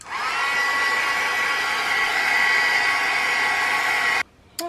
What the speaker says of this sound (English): I'm going to take a heat gun and I'm going to dry